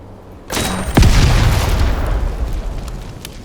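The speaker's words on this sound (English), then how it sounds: "it looks like they started shooting" Gunfire in the strategy video game Heart of the Machine: a sharp onset, then a heavy booming shot with a long rumbling decay, loud and alone with no talk.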